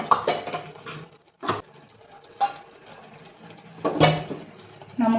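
Water is splashed a little at a time onto tomato paste in a plate for a drumstick masala curry, heard as short, close liquid pours broken by pauses.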